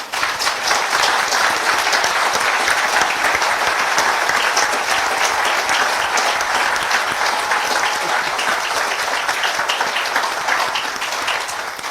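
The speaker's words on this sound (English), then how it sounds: "So can I just give them a round of applause," Sustained, loud audience applause fills the hall at a historic gathering, a dense steady wash of many hands clapping at once that holds for the full stretch and tapers only slightly at the end.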